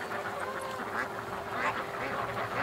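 Ducks quacking in a steady, overlapping chorus that stays moderately close and fairly constant, with no talk over it.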